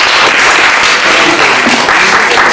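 Loud, dense audience applause at a 110th anniversary book event, sustained and close throughout with no talk over it.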